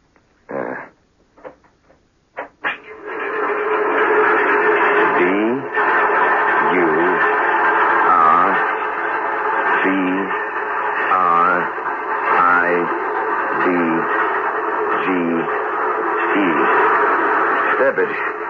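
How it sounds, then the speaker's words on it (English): Mark V tapping code, a trick Morse signalling device used by prisoners of war, played back from tape as a steady, buzzy radio-like tone with rhythmic pulses running continuously for most of the stretch after a few brief opening clicks. "It's the Mark V tapping code, a sort of trick Morse device so that man could communicate with each other in prisoner of war camps"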